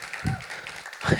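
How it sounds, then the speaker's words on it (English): Brief applause from a seated audience at a career networking event, a short patter of clapping in a hall with voices faintly mixed in. "Let's give a little round of applause for that video."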